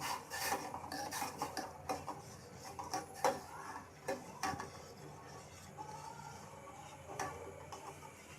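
A spoon scrapes and taps against a pot while sweet vermicelli zarda is stirred with yellow food colour, producing a close, irregular series of metallic clinks and rasping rubs with no talking.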